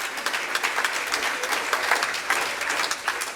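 Audience applause for Mike and Polly Smith at a talk on medical cannabis for pain, a steady roomful of clapping that stays even and dense for a few seconds with no voices over it.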